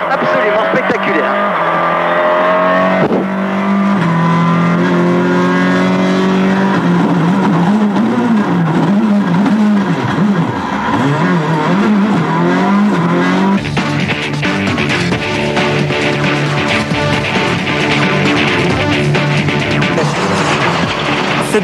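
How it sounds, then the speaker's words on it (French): A Skoda Fabia WRC rally car roars from the onboard camera at the 2003 Rally of Germany, its loud engine rising and falling through gear changes with tire noise and a French commentator speaking over it. "du jeune Cédric Robert et enfin Didier Auriol qui inaugure la toute nouvelle Skoda Fabia WRC. On regarde tout ça en image en profitant une dernière fois de cette embarquée absolument spectaculaire."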